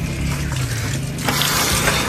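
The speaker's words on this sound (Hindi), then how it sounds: "मैंने सोचा ये बॉटल निकाल के पानी भर लेते" Water runs from a tap into a bottle as it fills, a steady broadband rush that swells louder partway through, close by with no voices over it.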